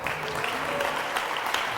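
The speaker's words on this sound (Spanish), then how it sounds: "Dele fuerte el aplauso." Church congregation applauding during a sermon, a steady wash of clapping throughout the short stretch with faint voices mixed beneath.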